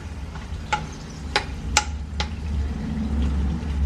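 Curd chillies fry in a little oil on a tilted tawa, giving a low steady sizzle broken by a few sharp clicks and taps of a utensil against the pan.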